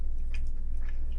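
Someone takes a bite of a crunchy chaffle topped with chicken pesto and palmini noodles, giving a few brief, close, soft crunching chews with no talking.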